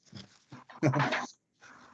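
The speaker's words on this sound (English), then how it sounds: "I had a barking dog, so" A dog gives a few quick barks and whimpers close by, in short bursts separated by brief pauses.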